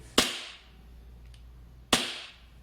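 An EMG Salient Arms International BLU S airsoft gas blowback pistol fires two sharp, loud, snappy cracks close by, spaced well apart with quiet room tone between.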